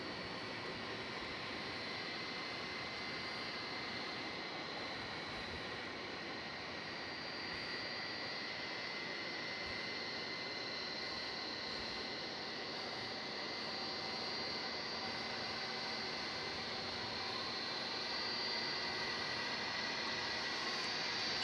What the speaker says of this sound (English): Here is the latest in the parade of 757 aircraft that we are lucky enough to see here late at night on Runway